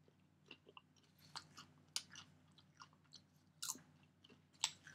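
Someone chews crunchy Jolly Time Simply Popped popcorn cooked in lard with salt, close and quiet, a steady run of small crunches and bites with no talk.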